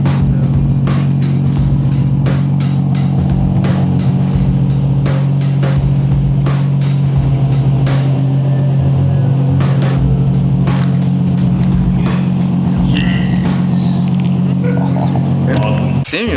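An Infiniti Q50 with the 3.7L engine and a fabricated single-exit exhaust idles after a cold start with a loud, steady, low rumbling drone, close by, while people talk and small clicks and knocks sound over it.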